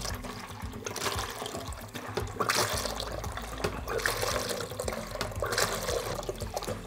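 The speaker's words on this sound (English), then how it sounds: "use a pump, siphon it off out of the larger tank, distill it into a smaller bucket" Water pumped and siphoned from a larger tank into a smaller bucket for mixing ceramic shell slurry in lost wax casting, a steady splashing, gurgling pour with a low pump hum, close and continuous.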